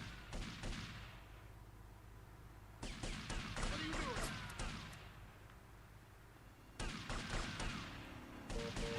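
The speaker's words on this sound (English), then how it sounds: "Are they shooting me or are they shooting somebody else?" Gunfire in GTA Vice City Remastered comes in three sharp bursts of rapid shots, each fading into a decaying rumble between volleys.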